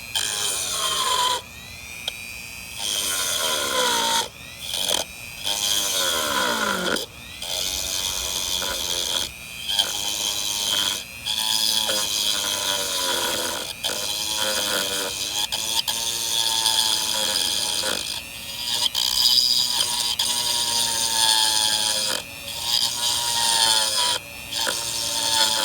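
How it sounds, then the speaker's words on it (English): A Dremel rotary tool running on a low setting cuts into the side of a snorkel mask, a steady loud high whine with brief pauses and shifts in pitch as the bit bites into the plastic. "You're going to turn the Dremel on a low setting, and you're going to begin on the sides."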